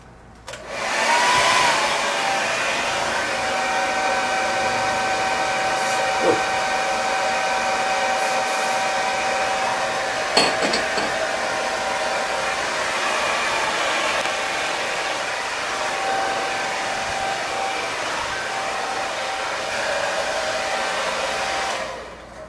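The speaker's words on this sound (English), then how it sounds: "what is this thing called? Blow dryer." A handheld blow dryer runs steadily for about twenty seconds, drying a long mustache that has just been sprayed with hairspray, a loud continuous whoosh with a faint whine and a brief bump partway through.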